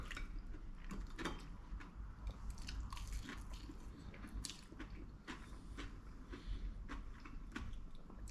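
Someone chews a mouthful of crunchy, posh-up tinned Heinz ravioli with tomato pesto. The bites and crunches come close to the mic and repeat steadily, at a faint level, with no talking.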